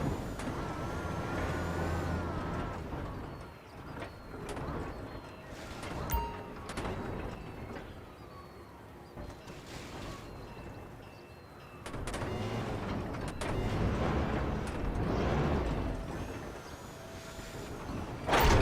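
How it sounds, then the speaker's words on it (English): Heavy machinery in Grand Theft Auto V as a crane lowers a shipping container onto a truck frame: continuous engine rumble with hissing air-brake bursts, mechanical clunks and a sharp thud near the end, fairly loud and steady throughout. "Bring the container down over the truck's frame."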